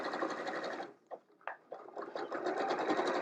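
Domestic sewing machine stitching through quilt layers, a steady loud motor whir that pauses briefly with a few clicks of fabric handling before running continuously again.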